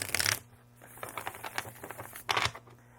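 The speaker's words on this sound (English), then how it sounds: "And I can shuffle that" Thick linen-finish tarot cards being shuffled, with crisp riffling bursts at the start and again near the end and softer card rustles between, close and fairly quiet.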